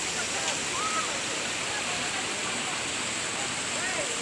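A forest waterfall at Dabakunda pours in a constant, even roar of rushing water that fills the whole stretch without pause.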